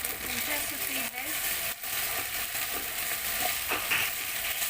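Spices sautéing in a pan for aloo keema, a loud steady sizzle with stirring scrapes throughout, while a person talks over it.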